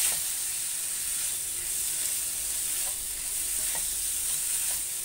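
Prawn masala with three teaspoons of chilli powder frying and being stirred in a pan, a steady bright sizzle with soft scraping stir strokes recurring throughout, close and continuous with no voices.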